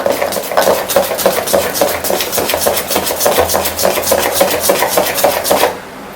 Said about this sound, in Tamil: பாருங்க, நல்லா அப்படி கலக்கிட்டேன்.